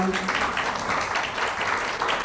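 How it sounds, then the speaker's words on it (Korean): Brief clapping from an audience at a hepatitis health talk as a speaker is welcomed onto the stage, a soft, continuous patter of hands lasting only a couple of seconds. "큰 박수 부탁드립니다"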